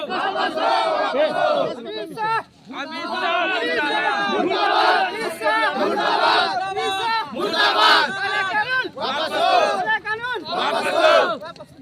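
Protesting drivers at a road blockade chanting slogans against a contested law in rhythmic bursts, a loud massed crowd of voices rising and falling together in repeated phrases.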